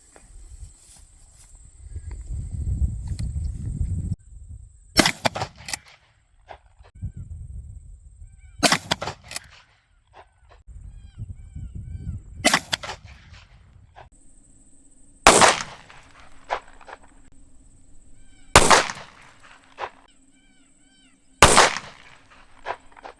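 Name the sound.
Axor Bushpig 12G shotgun firing Winchester Defender 1 ounce slugs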